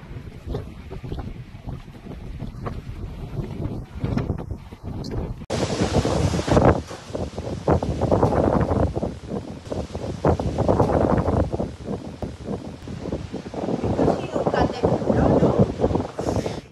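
Hurricane-force wind on Spanish islands, gusting up to 120 km/h, roars and buffets loudly, swelling into a harsh, continuous storm blast after a quieter opening, with waves or spray mixed in.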